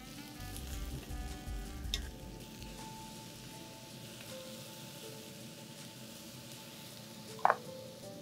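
Peppers and other vegetables charring in a hot pan, a steady sizzle and crackle running throughout, with a few faint clinks and one sharp utensil clink near the end.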